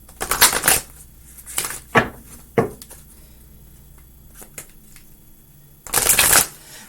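A guidance card deck is shuffled for a reading in several crisp, riffling bursts, with a louder final flurry after quieter pauses.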